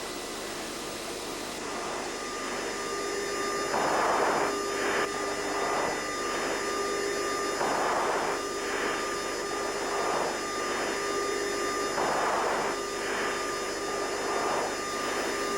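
Inside the cockpit of an F-14 Tomcat flying low over desert terrain, a steady, loud jet engine roar fills the air, with recurring tonal whines and bursts layered over it throughout.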